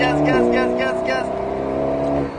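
An Alpine A110 S shifts gear on a track at Lohéac and its engine climbs in pitch as it accelerates hard, heard from inside, with a voice speaking briefly over it.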